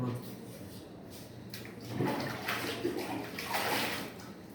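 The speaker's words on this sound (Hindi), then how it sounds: "थोड़ा सा पानी से इसको हमने धो लिया" Water splashing and running as a copper lota is rinsed by hand, a close, uneven wash of sloshing that swells midway, with speech alongside.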